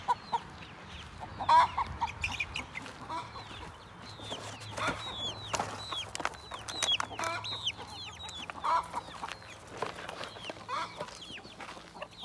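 Cochin bantam chickens near a coop give steady soft clucks and short calls, close by and layered throughout, with a faint low hum underneath.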